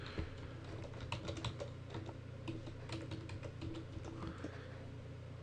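A computer keyboard clatters as a web server address is typed, a steady run of quick, close keystrokes in uneven bursts over a low constant hum, no voices.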